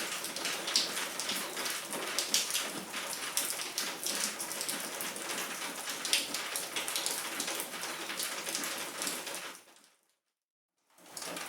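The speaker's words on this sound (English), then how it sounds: "so don't mind the rain and thunder." Steady rain pours during a storm, a dense continuous hiss of drops drumming on surfaces outdoors, nearby and fairly loud, cutting out abruptly near the end before briefly returning.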